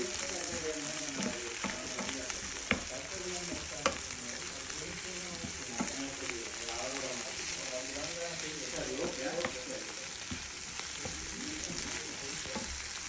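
Tomatoes and spices sautéing in a pan for Batticaloa-style chicken biryani, with a steady broadband sizzle and occasional sharp stirring clinks, while a voice talks over much of it.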